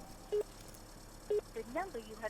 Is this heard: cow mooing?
no